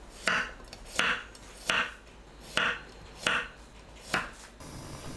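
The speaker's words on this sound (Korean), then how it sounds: "마늘을 편으로 썰어주세요" A knife slices through garlic cloves on a cutting board, six sharp, evenly spaced chops about a second apart, close and fairly crisp with no talk.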